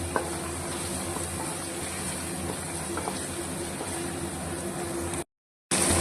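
Ripe tomatoes sautéing in a pan while mutton biryani is prepared: an even, moderate sizzle hiss, steady and alone, with a short dropout near the end.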